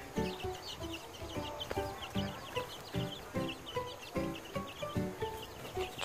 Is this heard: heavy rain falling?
no